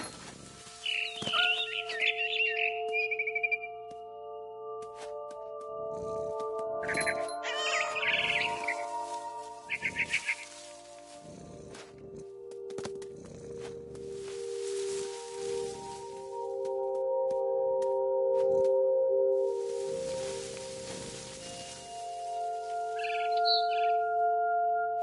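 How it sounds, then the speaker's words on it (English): A barn swallow in a video game gives bright, scattered chirps and twitters in short bursts over a quiet ambient musical tone. "Then I heard chirping outside my window. It was a barn swallow going back to her nest."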